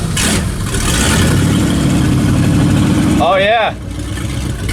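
A 1967 Dodge Dart's engine runs loudly and steadily, revving and held on the throttle before easing off near the end, with people talking close by throughout.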